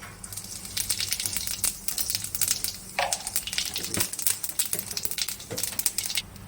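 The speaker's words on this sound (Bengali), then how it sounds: "এবার ওই যে কড়াইতে তেল দেওয়া হয়েছে, এর মধ্যে জিরে ফোড়ন দেওয়া হবে" Cumin seeds and bay leaves crackle and sizzle in hot oil in a wok, a dense, steady spattering with rapid irregular pops and a low background hum throughout.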